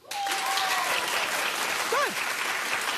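Studio audience applause from a daytime talk show crowd, a dense steady roar of clapping that holds loud for about three seconds with a few whoops rising over it.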